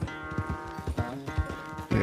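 Horse hooves clip-clop in the video game Red Dead Redemption 2, a quick rhythmic patter of hoofbeats under sustained droning musical tones.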